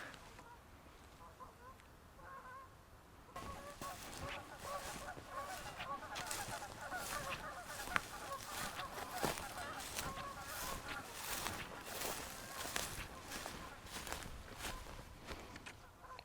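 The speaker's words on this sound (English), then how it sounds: "Oh, the geese are returning." Distant geese honk repeatedly in a loose, overlapping chorus over faint outdoor noise and footsteps.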